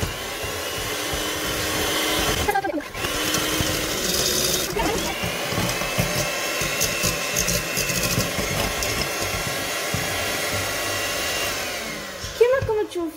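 An electric mixer beating sugar and eggs whirs loudly and steadily for several seconds, its motor pitch dipping briefly a couple of times before running on.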